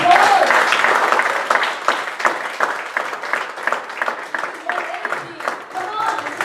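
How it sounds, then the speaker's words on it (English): Audience at a Toastmasters international speech contest applauds a contestant, with loud clapping that starts strong and slowly fades over several seconds. "Audience, please now give them a big round of applause."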